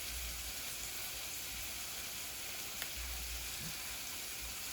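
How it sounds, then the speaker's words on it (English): Scallion, onion, tomato and scotch bonnet pepper frying in a pan give off a soft, steady sizzle that carries on without a break, with no talk over it. "Prince is frying up some scallion, onion, tomato, and some scotch bonnet pepper"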